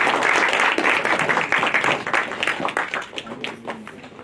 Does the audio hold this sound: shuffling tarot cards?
no